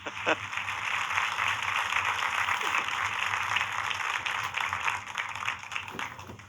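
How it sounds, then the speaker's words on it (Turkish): Steady, sustained applause from a studio audience in a TRT television studio in Erzurum, filling the whole stretch evenly, with no voices on top. "alkışları Sıtkı Eminoğlu için."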